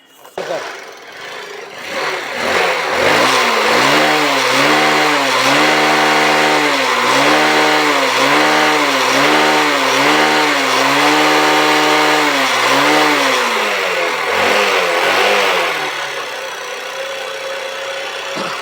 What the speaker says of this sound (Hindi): तो चलिए हम बाइक को स्टार्ट करते हैं